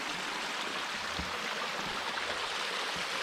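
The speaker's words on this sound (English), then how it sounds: "These beautiful little waterfalls. Like a step down cascading." Small step-down cascading waterfalls on a stream at a hiking-trail crossing give a steady, close rushing wash of water that holds evenly throughout, with no voices.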